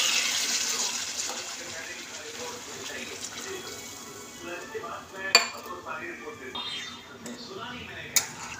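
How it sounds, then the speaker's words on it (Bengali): Water pours into a pot for a Bengali fish curry with vegetables, a splashing rush at the start that fades, followed by clinks of utensils and pot contacts while a person talks. "এই যে এবার জলটা দিয়ে দিচ্ছি।"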